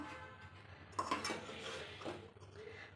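A pan clinks and scrapes on a home kitchen stove while a tikki chaat base is readied, with a couple of sharp metallic knocks amid soft rattling, close and fairly quiet.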